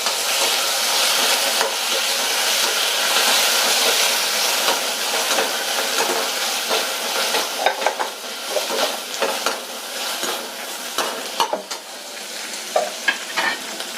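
Chopped tomato and onion fry in a pan for semiya upma, a loud continuous sizzle that softens over time, broken by clicks and scrapes of stirring.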